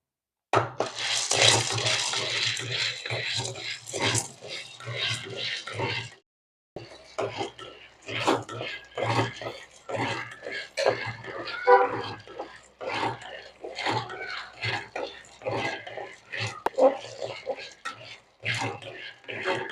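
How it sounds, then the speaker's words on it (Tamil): Chickpeas dry-roasting in a pan, a dense run of light rattling and scraping as they are stirred and tossed, close by, with a short pause partway through. "இப்போ கொண்டக்கடலையை வறுத்துக்கிடுவோம்"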